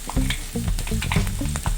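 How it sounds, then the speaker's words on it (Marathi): Vada pav potato filling being sautéed in a pan, a close, loud frying sizzle broken by quick rhythmic spoon stirs and scrapes, with no talking. "थोडं परतून घ्यायचं।"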